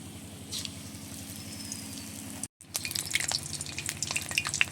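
Oil crackles and spatters as egg pakoras fry in a wok, the popping growing busier after a brief dropout, over a steady low mechanical hum.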